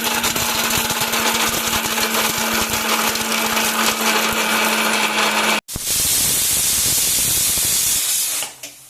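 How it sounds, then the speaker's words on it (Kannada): A kitchen mixer grinder blends roasted masala with coconut in a loud, close, steady whirring roar that stops for a moment, restarts at full power, then winds down, with no talk. "ಮಸಾಲ ಐಟಮ್ಸನ್ನು ನಾವು ಮಿಕ್ಸಿಯಲ್ಲಿ ನುಣ್ಣಗೆ ರುಬ್ಕೋಬೇಕು"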